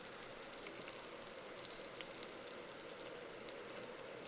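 Garlic and onion searing in a hot pan at an outdoor park cooking setup, a steady dense sizzle and crackle holding level throughout with no talk over it.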